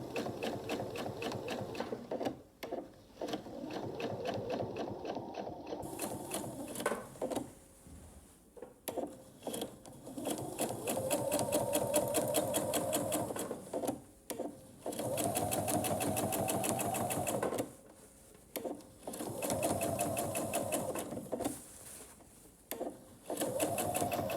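A sewing machine quilting a braided table runner, running in long steady bursts of rapid stitching separated by brief pauses, close and fairly loud.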